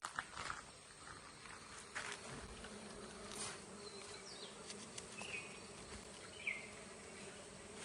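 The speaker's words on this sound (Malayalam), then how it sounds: "നമ്മുടെ തഴയ്ക്കുള്ളിൽ ഒരു കോൽത്തേനീച്ച ഇരിപ്പുണ്ട്." A steady, soft buzz of dwarf honey bees hums throughout, with occasional rustles and light taps nearby in a quiet outdoor setting.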